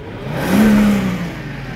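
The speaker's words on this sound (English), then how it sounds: "You can hear the exhaust noise just about." Engine and exhaust of an immaculate Mercedes W210 E55 AMG estate, a brief steady drone that swells to a louder hum midway and then settles back, heard alone without talk.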